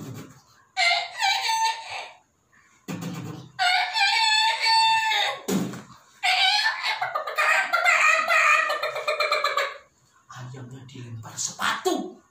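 A rooster crows several times in a row, loud and close, each call a long harmonic cry separated by short pauses, with clucking-like bursts between; the crowing sounds exaggerated, as if a voice is imitating it.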